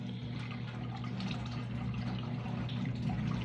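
Tap water runs steadily over freshly caught scallops being rinsed in a sink, a constant close splashing stream with a low hum beneath it, no voices.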